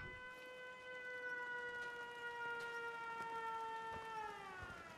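A steady wailing siren from the Fallout 4 game world sounds alone and fairly loud, its layered tones holding level then sliding downward near the end, with faint ticks in the background.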